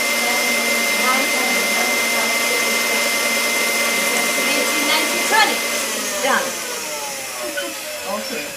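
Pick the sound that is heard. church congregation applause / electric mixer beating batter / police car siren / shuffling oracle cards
electric mixer beating batter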